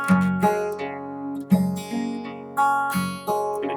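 An acoustic guitar plucks a fluid arpeggiated line, a bass note alternating with higher notes in a gentle repeating pattern, each pluck ringing close and clear.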